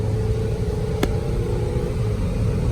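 A Ford Fusion with a newly replaced transmission driving along, giving a steady, loud engine and road drone heard from inside the car, with one short click partway through and no talking.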